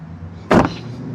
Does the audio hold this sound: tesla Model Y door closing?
yes